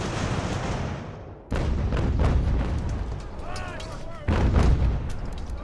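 Cannon fire rumbles through an American Revolution battle in the strategy game Ultimate General: American Revolution, British invasion of New York, with loud sustained booming, a sudden heavy burst, then a second loud surge over dense battle noise.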